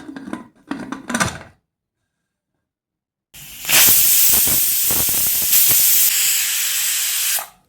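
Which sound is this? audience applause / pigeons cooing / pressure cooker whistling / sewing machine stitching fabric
pressure cooker whistling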